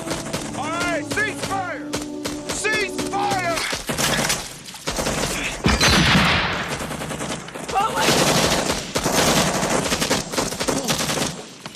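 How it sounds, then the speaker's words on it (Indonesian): Rapid bursts of gunfire from an attack in a war film, machine-gun volleys and single shots crackling loudly and repeatedly, with occasional voices underneath. "serangan itu menyebabkan Brownie tertembak dan kehilangan banyak darah"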